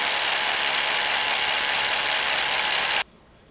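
Ryobi One+ SDS Plus brushless rotary hammer, model P223, drilling steadily with a loud, continuous hammering buzz for about three seconds before cutting off abruptly into quiet.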